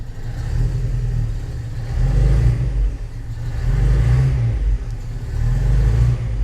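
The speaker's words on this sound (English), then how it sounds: "I'm absolutely amazed that this car runs and it actually sounds really good" A Datsun 140J engine running after sitting unused for twenty years, a loud steady low rumble that swells in two or three revs before settling back, close by with no talk.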